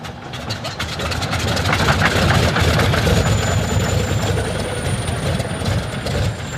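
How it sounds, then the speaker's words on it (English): Heavy 14-cylinder Pratt & Whitney radial aircraft engines starting, churning and rumbling continuously at close range, loud and rough with a mechanical clatter, steadying as they run. "Starting the 14-cylinder Pratt & Whitney radial engines is more art than science"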